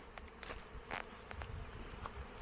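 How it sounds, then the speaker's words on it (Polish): A steady buzz of swarming honey bees fills the air, with scattered louder passes of bees flying close by against a busy outdoor background at an apple tree. "pszczoły postanowiły się wyroić"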